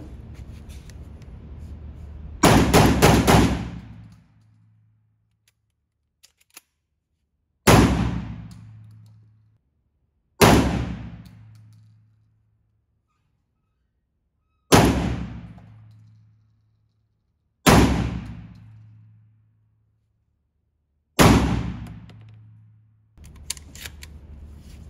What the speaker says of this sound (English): Here'll be a little rapid fire.